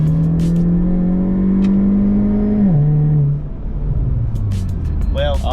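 Gen II Chevrolet Cruze turbo engine with a cold air intake accelerates from inside the cabin, a steady rising drone that drops at a gear shift and settles into a lower hum, with brief voices nearby.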